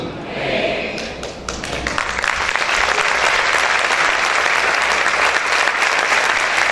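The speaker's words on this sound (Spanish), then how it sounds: "Ese aplauso es para el Señor" Church congregation breaks into loud applause, starting with scattered claps and swelling into a sustained, dense roar of clapping from many people nearby, with some voices mixed in.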